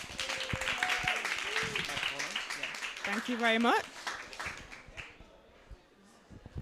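Audience applause greeting a speaker at a talk, a broad wash of clapping filling the room, with a person briefly speaking over it.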